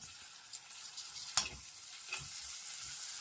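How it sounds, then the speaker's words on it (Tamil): Tomatoes sautéing in a pan for a spicy fish curry, a soft continuous sizzle with a few stirring scrapes and spatters, close and fairly quiet. "இப்போ வணங்கிட்டு இருக்கு."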